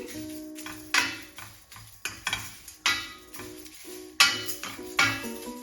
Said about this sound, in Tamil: அடுப்பை நல்ல வடிவாக குறைச்சி விட்டு தான் நாங்கள் வறுத்தெடுக்க வேணும்